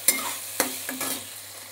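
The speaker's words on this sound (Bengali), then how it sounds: "তেলের ওপর লতিটাকে দিয়ে দিলাম। একটু লতিটাকে নাড়াচাড়া করে নেব" Taro stolons stirred in hot oil with nigella seeds: a few sharp spatula scrapes against the pan over a soft steady sizzle, close and brief, with no voices.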